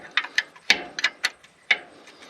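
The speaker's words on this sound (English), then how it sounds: "Back this bolt off." Several sharp ratcheting clicks come from a spanner backing off a bolt on the alternator of an International Acco 1850D cabover truck, irregular and close in a quiet space.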